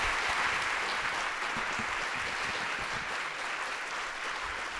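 Audience at a cultural philanthropy colloquium applauding after a panel, a steady, fairly soft roomful of clapping that holds evenly for the whole stretch.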